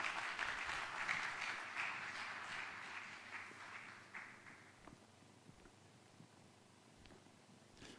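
A church men's seminar audience claps to welcome a speaker: a bright, full burst of many hands that thins and fades out over about four seconds, leaving a quiet room.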